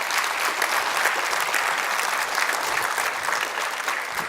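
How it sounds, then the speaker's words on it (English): An audience at a medical device industry event applauds continuously, a dense, even wash of many hands clapping with no voices heard over it. "I just want to give them a round of applause."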